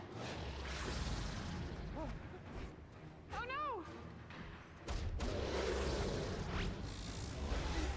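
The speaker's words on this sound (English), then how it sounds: "Thermochemical explosion." Booming thermochemical explosion power in the superhero video game DC Universe Online, with whooshing bursts, thuds and rising pitched tones from the game over a gamer's talking.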